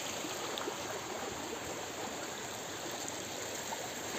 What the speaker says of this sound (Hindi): सामने हम लोग टंकी से पानी भर रहे हैं।